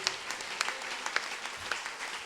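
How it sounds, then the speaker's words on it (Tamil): Congregation at a Good Friday church service clapping hands in faith, a quiet, uneven patter of scattered claps with a few sharper hits, heard at a distance. "என்ன விசுவாச கைத்தட்டு"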